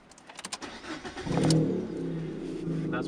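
Fiat Panda 100HP engine heard from inside the cabin: a start-up rattle, then a rising rev that peaks and settles into a steady mid-pitched drone, moderately loud and close.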